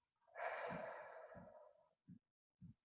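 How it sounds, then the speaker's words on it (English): A long, slow breath pushed out through the mouth during a guided calming breathing exercise, soft and close, followed by two brief quiet breath sounds. "you're going to breathe in through your nose and out through your mouth."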